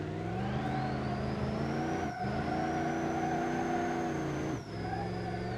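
A V8 turbo car in a driving video game revs loudly under full throttle, its engine tone rising steadily with two short dips where it shifts, sustained and close with no voices.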